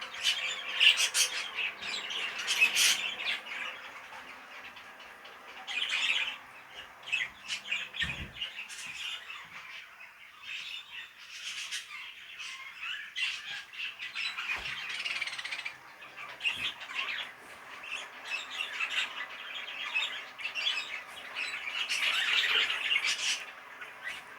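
Young budgerigars and young Fife canaries in a cage, with continuous busy chirping, squawks and tweets mixed together at moderate volume and no talking.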